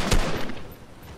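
Gunfire in the battle royale game Fortnite: a short, muffled burst at the very start, fading quickly into a dull rumble with no voices.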